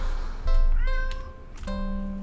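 A black stray cat in a video game meows several times in clear, tonal calls, close and prominent over a steady low game drone.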